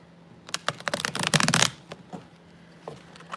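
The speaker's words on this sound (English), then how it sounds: "why can't I shuffle these cards right now?" A Tarot de la Nuit deck is shuffled close by in a quiet room: a clumsy riffle of crisp card flutters, then a few scattered softer snaps and slides.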